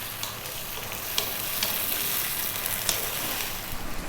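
Vegetable pasta sauce bubbles and sizzles over lively heat, a dense continuous frying hiss with occasional stirring knocks, close and fairly loud with no talking.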